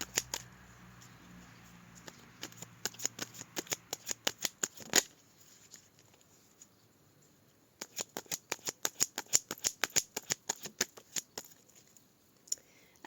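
A deck of oracle cards is cut and shuffled by hand, giving bursts of crisp riffling clicks and snaps at close range, with a pause midway before a second flurry of card flicks.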